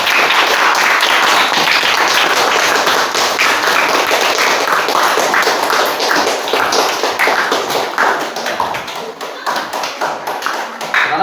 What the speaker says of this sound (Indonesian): sebelum tepuk tangan semuanya